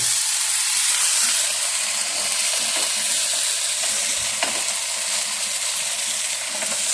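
Grilled cheese sandwiches toast in a skillet, giving an even, continuous close sizzle with faint occasional clicks, no voices.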